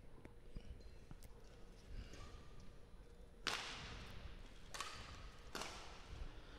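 Sharp smacks of a shuttlecock hit hard with a racket, several spaced a second or so apart, over faint court ambience.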